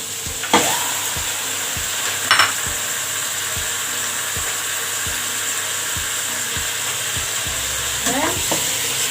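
Chicken pieces hit hot butter with garlic and onion, setting off a loud close sizzle punctuated by a regular rhythm of knocks and scrapes as the pan is stirred.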